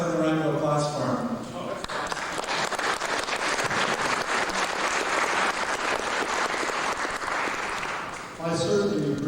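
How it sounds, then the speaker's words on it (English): A conference audience bursts into sustained applause for a speaker, a dense, even wash of clapping lasting several seconds, with someone talking just before and after it. "let's have a round of applause for him"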